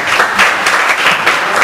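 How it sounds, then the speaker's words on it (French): Audience at a tech meetup applauding, a dense, steady wash of many hands clapping close by, sustained evenly for under two seconds with no talk over it. "Vous avez vraiment les applaudissements"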